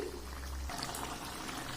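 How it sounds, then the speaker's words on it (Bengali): Water poured into a pot of cooking curry to make a little gravy, a brief near pour that shifts into a bubbling simmer, with no talking. "এবার আমি একটু ঝোলের জন্য পানি দেবো"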